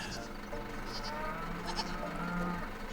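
Several goats bleat in the video game Farm Manager 2018 over a busy background of farm noise, their calls rising and falling close by with a faint voice underneath.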